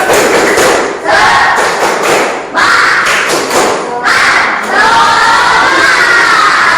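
Young audience at an Indonesian Islamic religious talk performing a rhythmic spirit clap chant, loud bursts of synchronized clapping punctuated by shouted cheering voices in repeated phrases.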